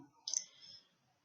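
A single computer mouse click, a brief sharp tick close to the microphone in a quiet room, with no talk.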